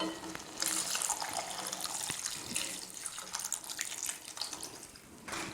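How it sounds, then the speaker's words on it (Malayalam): Water pours into a cooking pot of raw banana curry, making a steady splashing, tap-like gush that continues for several seconds and eases off near the end. "ബാക്കി വേവാൻ ആവശ്യമായ വെള്ളം നമുക്ക് ഒഴിച്ചു കൊടുക്കാം."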